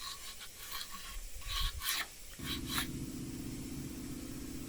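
Folded sandpaper rubbing across an alabaster stone sculpture, a dry raspy scraping in short uneven strokes, close up, followed by a steadier continuous grinding hum.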